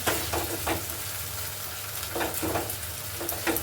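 Paneer masala seasoned with salt and turmeric sautéing in a pan for a malai paneer dish, a steady close sizzle with a few scraping stirs of the spatula, no voices.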